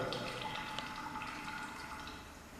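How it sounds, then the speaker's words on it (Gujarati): Excess water pours out through a knob and splashes into a graduated measuring cylinder, a steady, hissing trickle that runs evenly throughout and fades slightly at the end. "તેમાંથી વધારાનું પાણી બહાર નીકળીને અંકિત નળાકારમાં પડે"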